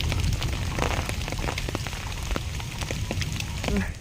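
Rain falling steadily in a forested rural spot, a dense close patter with scattered sharp drops over a constant wash, no talk.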